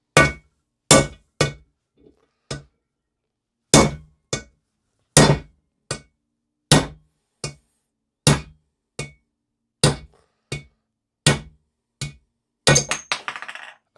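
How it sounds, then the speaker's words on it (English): A hammer hits a 1/2 inch socket again and again to drive a bearing out of a Triumph T140V gearbox casing. About fourteen sharp, metallic knocks come at an uneven pace, close and loud, with a rattling clatter at the end. "a reasonably sized hammer"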